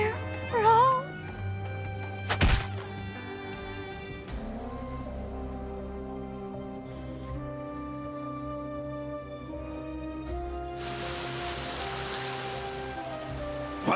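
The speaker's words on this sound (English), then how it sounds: "What the? It's raining." Steady rain hiss sets in partway through a cutscene in the video game Goddess of Victory: Nikke, layered over a melodic musical background with a sharp hit early on.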